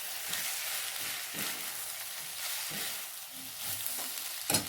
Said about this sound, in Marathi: आपण टाकलेली शिमला मिरची, कांदा व इतर पदार्थ चांगल्या प्रकारे परतून घ्यायचे आहे.